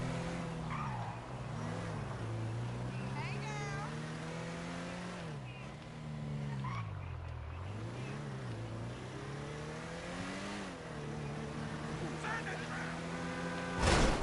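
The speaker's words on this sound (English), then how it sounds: "There's a car right here." A car in the GTA V video game drives with rising and falling engine revs as it accelerates and shifts, a continuous game engine drone with occasional tire noise and speech mixed in.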